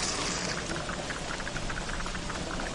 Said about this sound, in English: but I guess the rain was preventing it